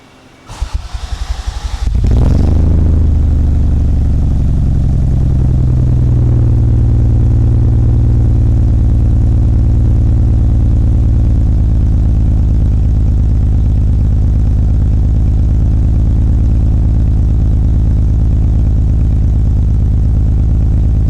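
A Toyota Supra long left sitting cranks briefly and fires up on a cold start, then settles into a loud, steady, close-up idle with a deep low rumble that holds for some twenty seconds.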